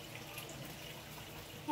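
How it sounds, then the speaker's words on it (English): Water pours steadily into something close by, a soft continuous trickle and splash lasting the whole moment, with no one speaking. "I'm gonna pour some water in, okay?"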